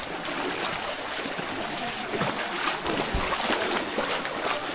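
Boat moving through floodwater in Sylhet, a continuous broad wash of water and hull noise with small splashes, steady and fairly close.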